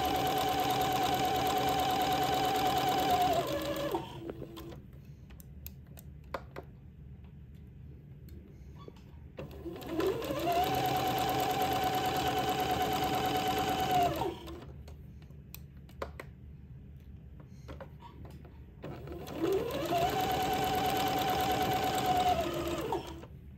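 A sewing machine runs in three steady bursts of several seconds each, stitching an entredot seam on a funeral pall, its motor whirring close with a faint clatter between runs.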